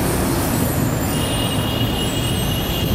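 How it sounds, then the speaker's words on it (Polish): Dense city traffic around the Obelisco on Avenida Corrientes and 9 de Julio in Buenos Aires: a loud, continuous roar of passing cars, buses and trucks with a faint air-brake hiss, no talk. "Ile tu przejeżdża tych samochodów."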